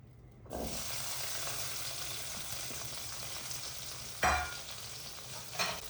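Onions and green chillies sizzle steadily in a hot pan, with a couple of brief louder scrapes as they're stirred.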